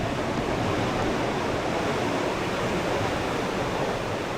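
Sea waves surge near a coastal cave, a dense, unbroken roar of churning water that stays loud and even from start to finish.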